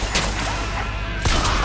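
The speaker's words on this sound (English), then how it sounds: "Jump up, shoot. I'm aiming for headshots here." Gunfire in the first-person shooter Bioshock Infinite, with a couple of sharp shot bursts over a steady game soundscape, one heavy blast near the end.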